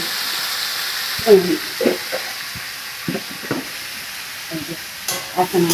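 Bitter gourd fries in oil with five-spice seasoning in a wok, a steady close sizzle broken by several scraping stirs of a spatula, with no talking.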